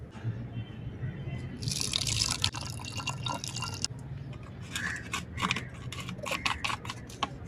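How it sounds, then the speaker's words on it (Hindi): Water splashes and trickles into a bottle in uneven bursts, with gurgling and light clinks, close by, while making cappuccino at home. "ये देखिए अब थोड़ा सा पानी इसमें डालेंगे।"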